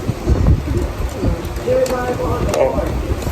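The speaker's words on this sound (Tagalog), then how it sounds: "Ito mga kalapatids, dagdag persa natin." Pigeons coo in a loft of paired racing birds, soft low hoots repeating under steady nearby talk and shuffling.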